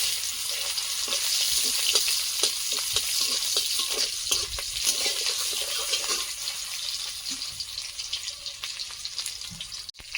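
Whole cumin and chopped onion fry in hot oil for a snakehead fish curry, giving a steady crackling sizzle with scattered pops and occasional stirring scrapes, close and without talk.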